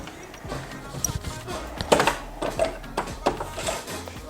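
A sewing machine stitching elastic band onto a lace frontal runs in short, uneven bursts of rapid ticking and thumping, fairly quiet and close.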